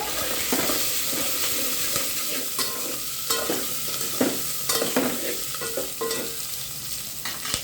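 Onions frying in oil for a Telugu dal tempering, with steady close sizzling broken by repeated stirring scrapes and clinks throughout, no talk.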